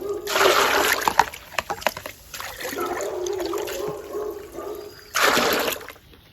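Water poured from a cup to dilute an organic garden pesticide, heard as two loud splashing bursts, a longer one early and a shorter one near the end, with quieter trickling between.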